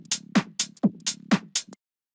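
Tech house intro with a filtered bass and kick, a muffled thumping pattern of about six evenly spaced hits, each with a bright click on top, ending abruptly in silence.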